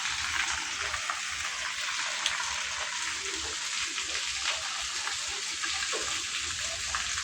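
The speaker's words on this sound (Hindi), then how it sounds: "बरसात है" Heavy early-morning rain pours outside, a dense, continuous hiss of drops striking surfaces, steady and fairly close, with faint patter and no talking.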